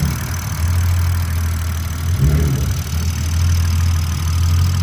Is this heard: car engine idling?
yes